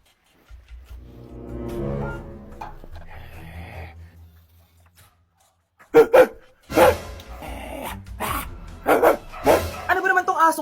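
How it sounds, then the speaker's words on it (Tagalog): Dog growling and barking at a house, a rough snarling stretch followed after a pause by several sharp close barks mixed with people shouting. "Ano ba naman tong asong to?"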